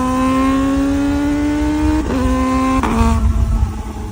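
A Kawasaki Ninja ZX-4RR 400 sport bike revs up in a long rising wail, drops sharply twice as the auto blip cuts in, then revs again, loud and close with no talk.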